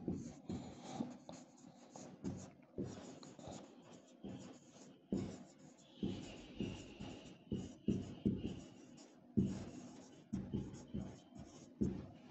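A pen or chalk writes a note during a physical science exam-prep lesson in short repeated scratchy strokes with brief pauses between words, close and fairly quiet, and no speech over it.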